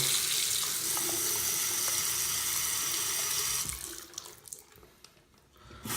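Water runs steadily from a household tap during a home inspection, a full broadband rush that cuts off partway through, leaving a few faint drips and handling sounds.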